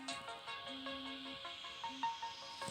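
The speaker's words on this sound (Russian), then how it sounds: "Вот Богдан звонит" A phone ringtone sounding in the boat-building game Build a Boat: a bright, repeating electronic melody of stepped tones, steady and moderately quiet, playing alone without talk.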